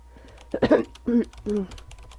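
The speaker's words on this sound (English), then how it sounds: "The loud tapping of my fingers against the keys fills the room for the rest of the day" Laptop keys clatter in the game The Letter, a light run of quick taps heard beneath a voice that speaks in short bursts over them.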